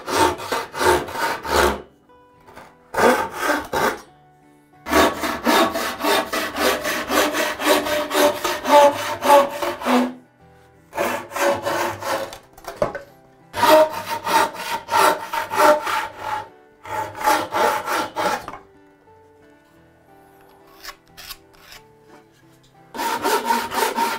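A buck saw rough cutting wood for an end table, its long rasping strokes coming loud and close in steady rhythmic runs, broken by a few short pauses.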